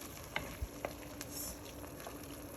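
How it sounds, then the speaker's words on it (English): Quiet, steady sizzling and frying crackle of seasoned rice with thyme in a pot, close up, with a few soft clicks and taps over the constant hiss. "Sizzling away."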